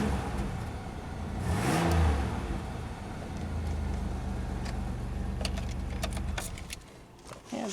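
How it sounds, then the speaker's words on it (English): A 2007 Chevrolet Uplander LS engine is revved once while parked, the note swelling near the start then settling to a steady idle hum, followed by some clicks and rattles near the close. "If I can get my foot in here, maybe we'll give it some revs."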